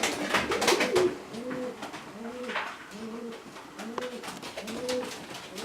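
A racing pigeon coos in a steady repeated rhythm, soft rolling calls recurring about every second, close by and alone with faint background noise.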